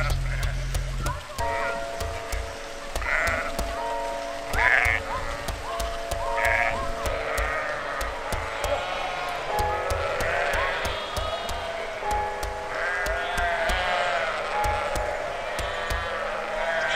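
Sheep in a frost-hardened meadow by the Brettenbach near Sexau bleat several times in short, separate calls over steady rustling and knocking, with a voice talking through much of it.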